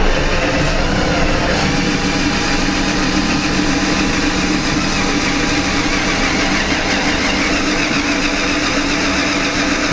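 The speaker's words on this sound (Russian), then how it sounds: "Сверление." A loud, continuous drill whine grinding into the hardened metal of a ROSTEX QUADRUM security lock, steady and close, with a constant mechanical buzz throughout.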